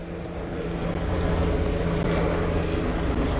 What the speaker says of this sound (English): That is the King County helicopter that you hear flying overhead.